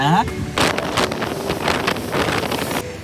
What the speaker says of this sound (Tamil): செம்மையான காற்றுங்க, வெளியே ஒன்றும் தலை காட்ட முடியல.